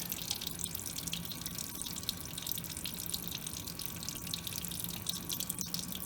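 Liquid squirted from a bottle drips and trickles steadily into a lab waste beaker during a copper chloride experiment, a continuous close splashing patter with no talk.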